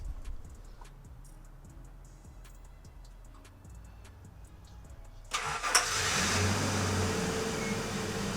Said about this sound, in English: Let's turn on the truck and see how it sounds.